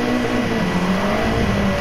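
A Mitsubishi Lancer Evolution with a 2-litre 16-valve turbo engine pulls hard on a track, a steady loud engine drone rising slightly in pitch throughout with no talk over it.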